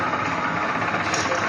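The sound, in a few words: electric motors with reducers running in a home workshop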